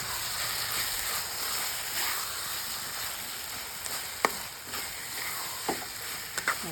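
Eggplant frying in a pan with chili powder, a soft steady sizzle throughout with a few sharp clicks of a spoon stirring toward the end.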